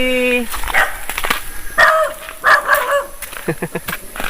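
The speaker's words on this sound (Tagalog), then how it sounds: "Pinahulan pa tayo ng aso." A dog barks and yips repeatedly at close range, its sharp barks mixed with people talking over and between them.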